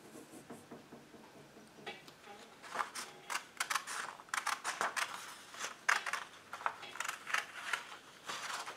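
Scissors snipping through a cardboard toilet paper roll for a craft, a quick series of close, light clicking cuts growing busier toward the end.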